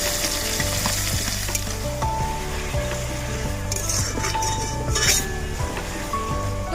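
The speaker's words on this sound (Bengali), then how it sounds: "এখানে তেলটা গরম করে নিয়েছি, আর চিকেনটা আজকে একটু অন্যরকম পদ্ধতিতে বানাচ্ছি। তো এখানে পেঁয়াজটাকে ভেজে নেবো" Onions fry in hot oil for a chicken dish cooked at a picnic, giving a dense, constant sizzle with occasional clinks of a utensil against the pan.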